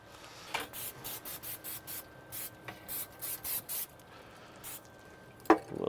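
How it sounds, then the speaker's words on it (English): A spray bottle spritzes ribs on a Komodo Kamado grill about a dozen times in quick, steady bursts of hiss, close by, followed by a short clatter at the end. "A little bit of a spray there."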